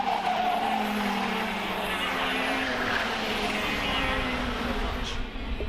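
Racing karts of the KZ2 class roar past continuously during a final, a dense, steady engine drone with a brief tonal whine rising and falling, fairly loud and sustained without any talk.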